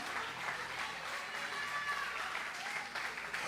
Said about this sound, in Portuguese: Se você quer bater palmas, pode bater.